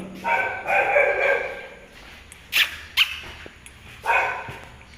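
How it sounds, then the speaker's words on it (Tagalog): A dog barks repeatedly from some distance: a longer burst of barking, then a few sharp, separate barks with pauses between them. "Oh, may aso, ah."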